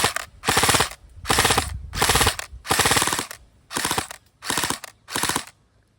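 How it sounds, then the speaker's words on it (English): An airsoft gun fitted with an Avocado Burst MOSFET fires seven rapid three-round bursts in close succession, each a loud, crisp rattle of shots separated by short pauses. "Here's the 3-round burst."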